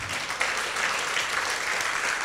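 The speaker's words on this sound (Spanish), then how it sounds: "Fuerte las palmas al rey." A church congregation claps for a testimony during a service, a steady wash of many hands clapping at moderate level, continuous and fairly distant, with no voices over it.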